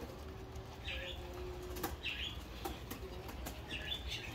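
Pigeons in a coop flap their wings in several short bursts, fairly close, over a steady background hum with a faint coo.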